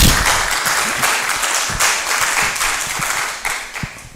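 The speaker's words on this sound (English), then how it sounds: "The length of the clap can tell you he's done a great job" An audience at an inter-university HR symposium applauds loudly, a dense sustained clapping from many hands close by, with no speech.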